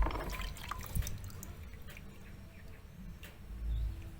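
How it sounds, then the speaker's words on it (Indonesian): Water drips and trickles softly while amulets recovered from the Brantas river are being washed, a quiet close splashing with no talking. "Ini proses pencucian."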